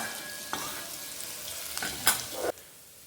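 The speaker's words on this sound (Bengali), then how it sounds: "কয়েক সেকেন্ড একটু নেড়ে চেড়ে নেবো।" Crushed garlic frying in a pan, stirred for a few seconds, giving a steady soft sizzle with a few light scraping strokes and one sharper clink near the end, then the sizzle drops quieter.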